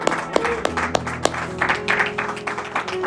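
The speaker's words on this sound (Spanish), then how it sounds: "démosle un fuerte aplauso a Dios" Congregation clapping for God during a church service, with a few sharp hand claps at the start followed by scattered clapping over sustained tones and voices.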